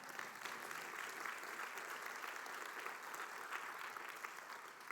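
A church congregation applauding a sermon, an even wash of many hands clapping together, steady and fairly faint, with no voice over it.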